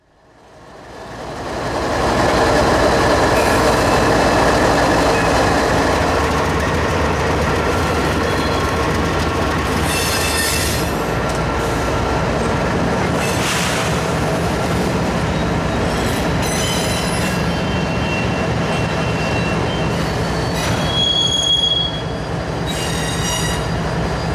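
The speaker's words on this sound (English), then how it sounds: "the train pulled into the track closest to the street" A freight train hauled by Dash 8 diesel locomotives rumbles past up close and loud in Winnipeg, heavy diesel engine drone with wheels squealing and clanking over the rails throughout.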